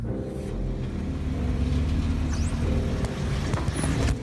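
An AWD Honda Ridgeline pickup creeps down the steep rock trail at Hell's Gate, its engine a steady low rumble with crunching and scraping from the tyres over rock, continuous and close, with no talking.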